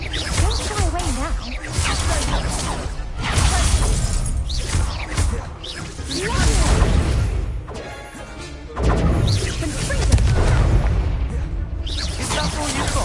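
Explosive spell blasts in Hogwarts Legacy combat, repeated crashing booms and shattering bursts throughout, loud and close, with voices shouting in between and over the impacts.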